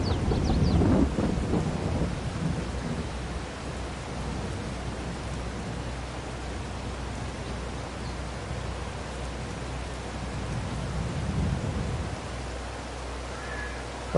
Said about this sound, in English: Because it doesn't look like it's raining. I mean, it is.